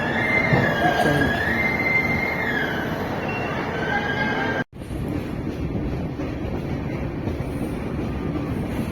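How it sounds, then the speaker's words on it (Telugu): The Uday Express double-decker train runs between Vijayawada and Visakhapatnam with a loud, continuous rumble of wheels and carriages, a squealing wheel tone in the first half, and a brief dropout midway before the steady roar resumes. "ఉదయ్ ఎక్స్ప్రెస్ విజయవాడ నుండి విశాఖపట్నం మధ్యలో చాలా డిమాండ్ ఉన్న ట్రైన్."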